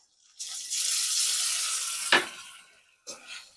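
Ginger and garlic paste with cumin and garam masala spice paste sizzles in a pan with lightly fried onions for a duck curry, a steady frying hiss broken by a sharp spoon scrape and a brief later stir.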